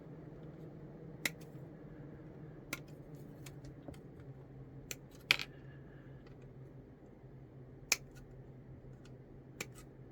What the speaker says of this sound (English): Let's just cut all the legs off.